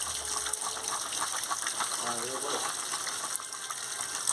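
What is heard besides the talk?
washing banana stem in running water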